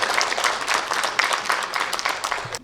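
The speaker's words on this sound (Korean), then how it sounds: "박수로 맞이해주시면 감사하겠습니다" Dense, continuous clapping from a ceremony audience at the 107th anniversary commemoration of the Korean Provisional Government's founding in Gyeongsangbuk-do, a close, even patter of many hands with no voices on top.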